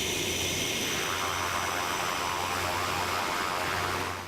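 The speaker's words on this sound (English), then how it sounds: "Santa was flying in on an airplane" An airplane flies in carrying Santa at a Hudson Valley Christmas event, a loud steady roar of engine noise that holds throughout and eases slightly at the end, no speech.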